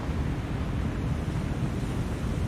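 Seawater washing over the bow of a sinking warship in the naval game War On The Sea, a steady, dense rushing surge of waves that carries on throughout without pause.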